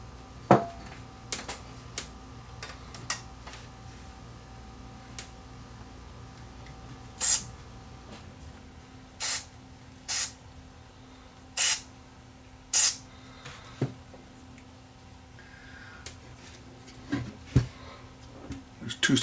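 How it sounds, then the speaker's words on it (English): Cleaner is sprayed in several short, sharp hissing bursts into a switch of a vintage Paros 750 vacuum-tube reel-to-reel tape recorder during repair, with faint clicks and handling noise between bursts. "let's spray some cleaner into this switch first"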